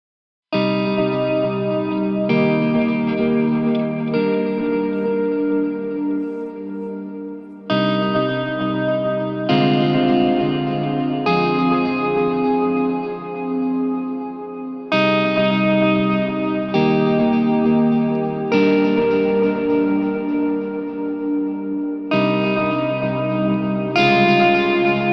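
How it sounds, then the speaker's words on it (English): A modal chord progression borrowing a major chord from the Phrygian mode, with sustained, effect-laden chords changing every two to three seconds, ringing loud and alone with no voices. "just listen to how beautifully this major chord brightens and opens up the chord progression"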